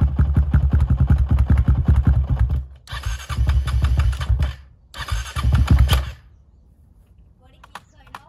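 Yamaha Raptor 700 ATV engine cranking and sputtering in repeated loud bursts, with several attempts separated by short pauses before it dies away; a faint voice is heard near the end.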